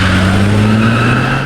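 A speeding car accelerates hard with a loud, close engine roar and rising revs, tires squealing briefly as it surges ahead, alone without talk.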